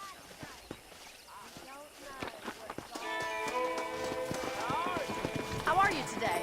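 Horse hooves clip-clop in the Red Dead Redemption video game, with sharp, irregular hoofbeats at first, then a sustained tonal musical score rising beneath continued hoof sounds.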